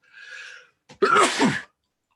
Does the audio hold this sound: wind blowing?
no